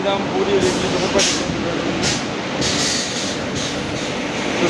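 A train rolls past a railway station platform with a continuous rumble and rhythmic clatter of wheels, while people talk over it.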